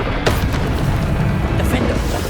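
Bombarda spell blasts in the Hogwarts Legacy video game hit as a loud low boom with rumbling bursts, layered over spoken spell names.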